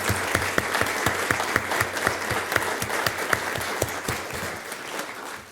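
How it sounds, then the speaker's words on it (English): Audience at a school district governing board meeting applauds arts educators, a steady burst of many hands clapping that holds for several seconds, then thins slightly toward the end. "give you a big round of applause for what you're doing to support these students"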